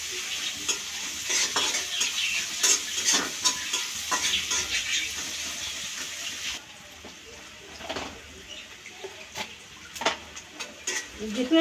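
Onion frying in oil in a pan while a utensil stirs and scrapes it, rhythmic scraping clatter over a sizzling bed, quieter after midway with intermittent scrapes close by.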